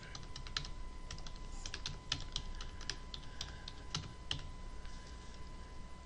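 Someone types a comment on a computer keyboard, with quiet, irregular key clicks over a faint steady electronic hum.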